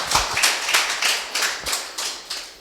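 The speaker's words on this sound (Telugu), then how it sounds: "చప్పట్లు కొడదాం." A church congregation at a Sunday worship service claps together in a steady rhythmic beat, with about three claps per second repeating evenly and fairly close.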